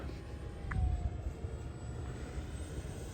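A 3D-printed PLA Viggen model jet with a 50mm ducted fan flying overhead, a steady thin whine over outdoor rumble and wind, fairly faint and distant.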